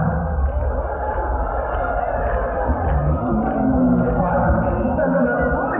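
Zoo crowd at a sea lion show in Bioparque Estrella cheering and clapping, a dense, steady roar of many voices close by that holds for several seconds.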